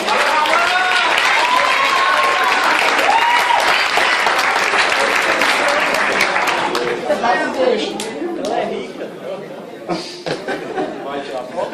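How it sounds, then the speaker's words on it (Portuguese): An audience at a fantasy literature panel applauds loudly and steadily for about seven seconds, then the clapping thins into scattered claps, chatter and light laughter as voices rise over it. "Aí, palmas, né, gente?"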